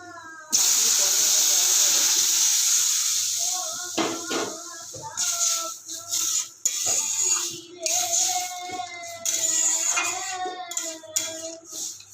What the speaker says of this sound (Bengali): তারপরে এর মধ্যে আমি এই জলটা ঢেলে দেবো।